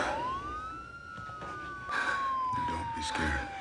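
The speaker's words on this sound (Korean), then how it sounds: "들려오는 사이렌 소리." A police siren wails in a film scene, one long tone swooping up and then slowly sliding down, fairly loud against background noise and faint movement.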